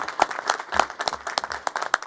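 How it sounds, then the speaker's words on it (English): A short burst of clapping from a small crowd at a news conference, sharp hand claps rapping quickly and unevenly for a couple of seconds. "let's give the firefighters a round of applause for that"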